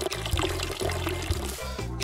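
Plants being watered in the Weed Shop 2 video game: a short looping pour and splash of water repeating in quick, even cycles, close and moderately loud.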